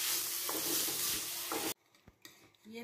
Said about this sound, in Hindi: हम आलू को दूसरी साइड पे कुक होने के लिए सिम पे रख देते हैं